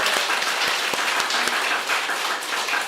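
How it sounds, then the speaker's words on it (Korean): A church audience claps for two young people who have just given testimonies, a dense, steady round of applause filling the hall without pause. "큰 박수 부탁드리겠습니다"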